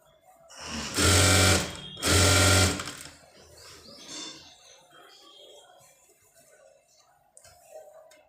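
An electric sewing machine hems the edge of an old saree being turned into an umbrella-style dress, running in two loud close bursts of rapid stitching, each about a second long, followed by quieter talk and light handling.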